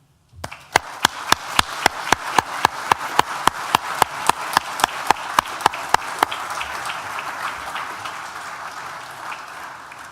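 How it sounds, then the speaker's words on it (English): Hall of graduates and guests at a university graduation ceremony breaking into applause, a broad steady wash of clapping sustained for about ten seconds, with one person's sharp, evenly spaced claps standing out near the front for the first several seconds. "Graduands, please join me in a round of applause"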